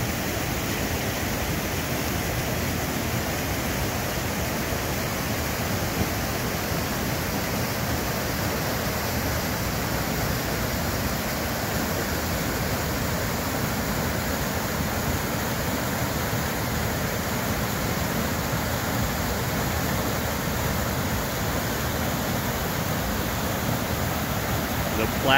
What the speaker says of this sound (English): The Platte River, South Fork of the Platte River, flowing out of 11 Mile Reservoir.